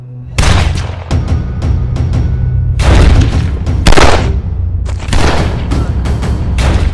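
Loud bursts of gunfire and heavy booms in repeated volleys from a film shootout between a sniper and a Mexican cartel, with rapid shots and deep thuds over a low rumbling background.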